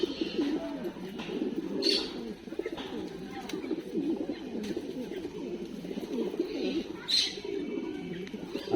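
Imported-line pigeons coo softly and continuously, their low rolling coos overlapping at close range, with a few brief higher chirps and rustles now and then.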